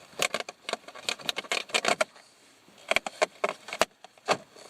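Vinyl siding panels being zipped together by hand, giving a run of quick, close plastic clicks and snaps in two bursts separated by a short pause, with no voice.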